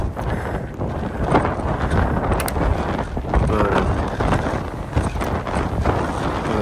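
Strong wind buffets outdoors in loud, rough gusts that rumble across the microphone, continuous throughout with faint background sound.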